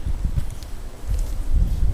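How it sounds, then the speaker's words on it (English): Wind buffets the microphone in uneven low rumbling gusts, a steady blustery roar with no voices. "And it's really windy out."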